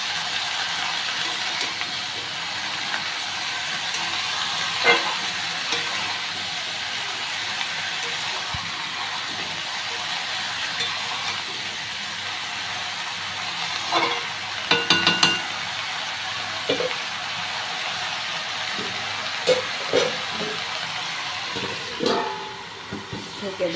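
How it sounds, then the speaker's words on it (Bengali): Mixed vegetables with turmeric and salt being stirred and fried in a pan, a steady soft sizzle with repeated scraping clicks and a few louder clatters, close and without talk. "সবজিটা দিয়ে নেড়ে চেড়ে নিয়েছি,"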